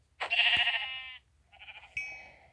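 A sheep bleats twice in a blocky survival video game, one long wavering call followed after a short pause by a shorter bleat, clear and close with no talking.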